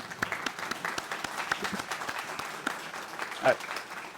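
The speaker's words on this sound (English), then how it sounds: "I'd like to give them a round of applause." Applause from the audience at a Rotary Club Student of the Year and Frontline Heroes awards evening, a steady patter of many hands clapping at moderate level, with crowd murmur mixed in throughout.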